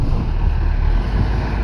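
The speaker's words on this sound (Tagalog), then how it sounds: "Kusog ang hangin mga kabangka." Strong wind buffets the microphone aboard a boat at sea near Bitaugan Point, a dense, steady low roar with a constant rumble of wind and water and no voices.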